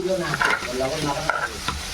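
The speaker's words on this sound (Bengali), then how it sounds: "এই যে ভোলা মাছ ভাজা হচ্ছে" Bhola fish coated in salt and turmeric frying in a pan, with a steady close sizzle and soft scraping stirs from a utensil throughout.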